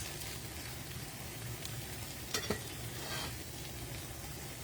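Coconut milk simmers down into latik in a pan, a faint, even sizzle and bubbling with a brief scrape of stirring midway.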